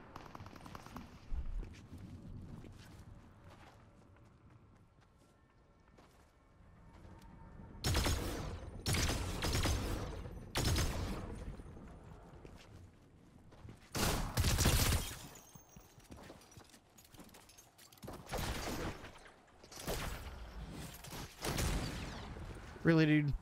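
Gunfire crackles on several sides in a Fortnite Battle Royale match, with bursts of shots coming in clusters and at varying distances amid quieter stretches, while people talk now and then.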